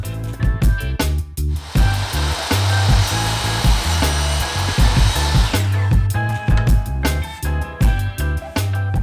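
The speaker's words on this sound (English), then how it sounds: "Mike was cutting out this piece of trim" A power tool, likely a saw, cuts a piece of wood trim in a camper van, a loud steady whine with brief pauses and rhythmic low knocking throughout.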